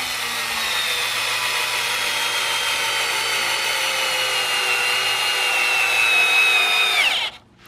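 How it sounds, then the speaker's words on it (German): A power drill drives a long screw into the wooden substructure of a deck, whining steadily with a gradually rising pitch for about seven seconds. It stops abruptly at the end. The drill is loud and close, with no talking. "Und ich schraube die Schraube da mal so rein, dass die dann auch noch mal ein bisschen weiter nach unten drückt."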